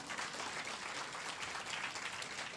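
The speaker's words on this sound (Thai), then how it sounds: "ขอเสียงปรบมือ" Faint, distant applause from an audience at a business talk, an even wash of clapping throughout the short stretch.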